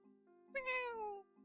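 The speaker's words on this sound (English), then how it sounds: "Kitty." A cat gives a single clear meow, rising then sliding downward, close and fairly loud over a steady low hum, with no talking.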